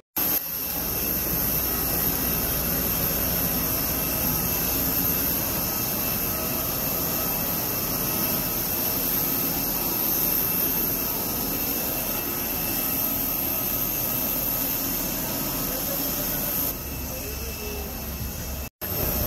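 Airliner jet engines roar steadily inside the cabin after landing, a loud continuous whine and rumble lasting throughout, with muffled voices faintly beneath.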